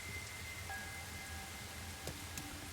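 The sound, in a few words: rain falling in video game Rain Code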